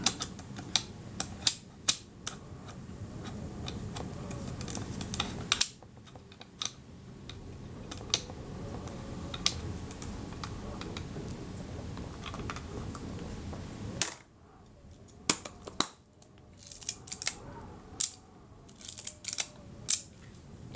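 A spanner wrench turns a retaining ring on a Kodak Retinette type 022 camera, giving dense bursts of tiny sharp clicks and scrapes close to the mic, pausing briefly and then resuming, with no voices.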